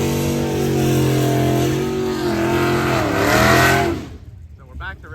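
A street machine drag racing car accelerates hard down a track, a loud sustained engine roar with rising harmonics that builds and then cuts off near the end, leaving a brief quieter tail.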